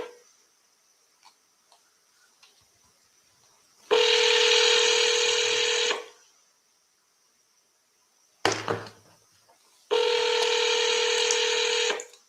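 Telephone keypad tones from dialing a number during a round of seller calls: two sustained electronic tones of about two seconds each, separated by a short click and quiet gaps, with no talking.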